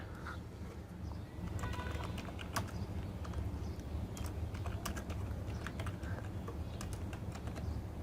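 Keys clatter on a computer keyboard as text is entered in Microsoft Word 2013, a run of quick, faint clicks over a low steady hum.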